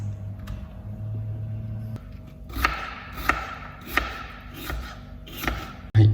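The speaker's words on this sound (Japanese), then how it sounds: "材料がピーマン、パプリカ、人参、玉ねぎ、あとウインナー、早速切っていきたいと思います" A knife chops bell peppers, paprika, carrot, onion and sausage on a cutting board in a kitchen, producing several evenly spaced, sharp knocks over a low background hum.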